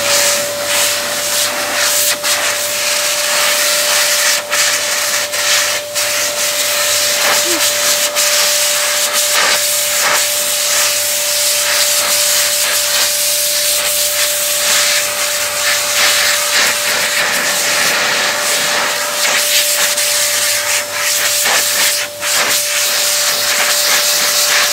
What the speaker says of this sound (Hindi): अभी हम वैक्यूम क्लीनर को चालू करते हैं।